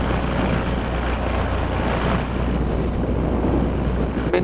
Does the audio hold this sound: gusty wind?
yes